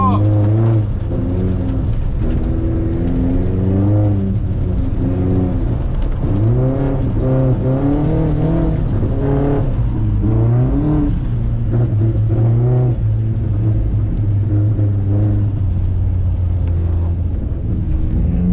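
An Audi S3 quattro drifts on an icy track, its engine droning steadily and loudly with rising and falling revs throughout, heard from inside the car.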